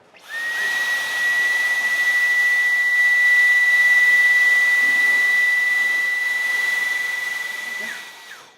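A Dyson V11 cordless vacuum cleaner runs with full suction, giving a steady, close airy roar with a piercing high whine held for about eight seconds before it winds down.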